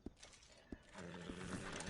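Horse in a video game, a couple of clip-clop hoof knocks then a drawn-out neigh or snort, fairly close and moderately loud.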